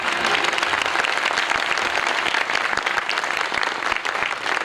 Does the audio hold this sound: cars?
no